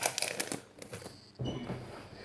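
Parcel packaging being opened with scissors, with bursts of crinkling and rustling plastic and cardboard, close and moderately loud, with a louder scrunch partway through and no talking.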